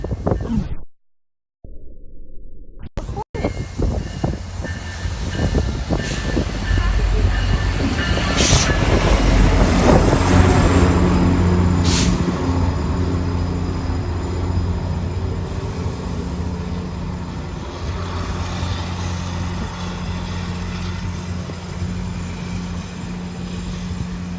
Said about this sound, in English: Because the train was coming, that's why the snow was coming up.